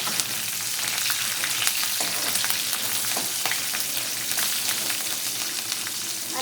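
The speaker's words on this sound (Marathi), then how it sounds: "आता मिरची टाकून घेऊया. चांगलं असं मिरचीला गरम होऊ. तर त्याला हलवून घेऊ." Green chillies fry in hot oil for upma while a spoon stirs them: a loud, dense, continuous sizzle with scattered crackles and pops throughout, close up and without any voices.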